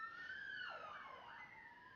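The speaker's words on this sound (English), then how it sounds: "there is a siren going past my window" An emergency siren passes outside a window, its wailing tone sweeping up and down steadily and fairly loud, with no one talking over it.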